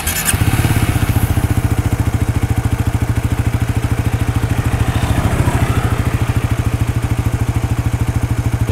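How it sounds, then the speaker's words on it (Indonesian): A motorcycle engine idles smoothly after a roughly 50 km ride, a loud, close, steady rapid thrumming with even firing pulses throughout. "Suara mesinnya itu halus banget."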